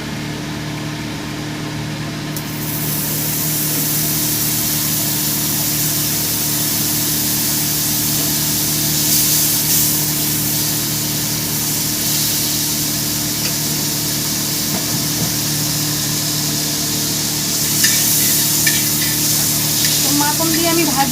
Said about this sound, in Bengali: মাখন দিয়ে আমি ভাজবো, মাখনটা একটু গলিয়ে নিচ্ছি